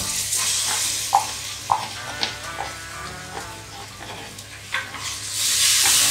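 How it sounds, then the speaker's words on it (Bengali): Onion fries in a pan, giving a steady sizzle while a utensil stirs and taps in several distinct knocks. The frying swells louder near the end, close and clear, with no talking. "পেঁয়াজটা একটু ভেজে নেব।"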